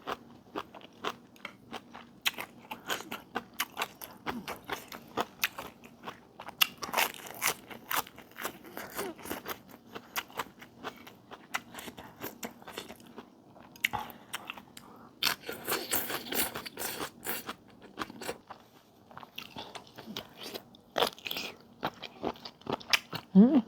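Crunchy bites and chewing of instant black noodles with heaps of vegetables, close up: many sharp irregular crunches and crackles that come in dense clusters, with no talking.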